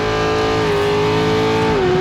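A loud race truck engine drones steadily at close range during the Baja 1000 2025 in Mexico, holding its pitch and then dropping slightly as the vehicle shifts, with no voices.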